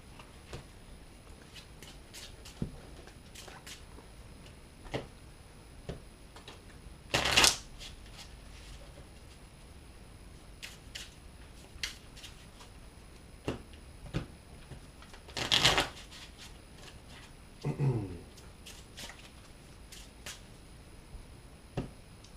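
Playing cards for a Malifaux tabletop game are shuffled in two brisk riffles, separated by quiet stretches with small taps and handling noises.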